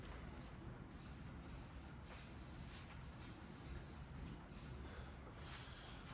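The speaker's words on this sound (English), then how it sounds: "I'm gonna take a little window cleaner and hit both headlights." Window cleaner sprayed onto car headlights during a headlight restoration, a steady close hiss of spray running unbroken the whole time with no talk.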